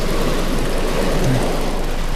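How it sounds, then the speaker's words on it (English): Heavy rain pouring onto a car during a thunderstorm near Thibodaux, a loud, dense, continuous hiss and drumming on the roof with a low rumble underneath, with no talking. "it's pouring down raining"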